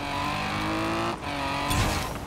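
In Forza Horizon 4, a car's engine drones steadily at high revs, dips briefly under hard braking and the handbrake, then surges back loudly with tire noise as it accelerates.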